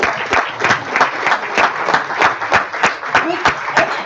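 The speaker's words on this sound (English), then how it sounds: "Please give him a big round of applause." An audience applauds at a national science and engineering conference, dense steady clapping from a crowd in a hall, moderately loud and sustained throughout.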